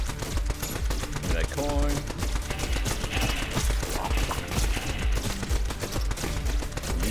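Rapid stream of weapon fire in the roguelike shooter Neon Abyss, steady busy bursts running throughout under game music, while a voice speaks briefly.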